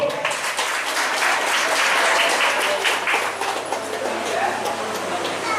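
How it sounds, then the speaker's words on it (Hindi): An audience at a celebration for NEET-qualified students claps in sustained, dense applause that stays loud and fairly even throughout, with some voices mixed in. "ताली तो बजाइए आप लोग।"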